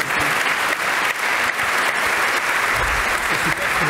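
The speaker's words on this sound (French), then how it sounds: "On peut vous applaudir." Audience applause at a conference session on artificial intelligence, data and new technologies, a steady dense clapping that carries loudly through the whole stretch with no voices over it.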